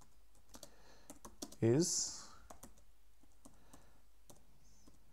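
Light, irregular clicks of typing on a computer keyboard come from a desk setup, fairly quiet, with a brief spoken word partway through.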